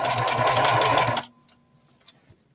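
A sewing machine stitches a bucket hat in a fast, rattling run for just over a second, then stops, leaving a few faint clicks and handling taps in near quiet.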